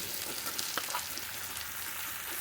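Eggplant pieces dropped unfried into a hot pan, giving a steady, fairly quiet sizzling hiss with a couple of faint clicks throughout.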